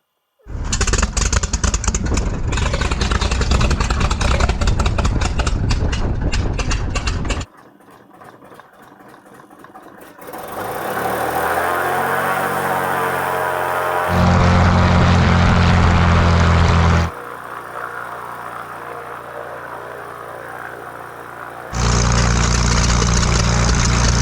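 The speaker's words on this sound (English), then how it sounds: "I'm about to commence engine start" A Cessna 310 light twin's engine cranks and roars, drops away briefly, then spools up again with a steady droning propeller hum that shifts in pitch and intensity.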